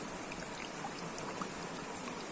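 Water flows from a micro hydro intake pipe that has been moved downhill for more flow, a steady close hiss and trickle that runs on evenly with no talk.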